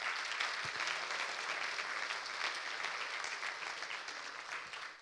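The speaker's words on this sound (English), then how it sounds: "Let's give them a very warm round of applause once more." A conference crowd at a sustainable aviation event gives a warm, dense round of applause, loud and continuous, slowly tapering toward the end with no voices over it.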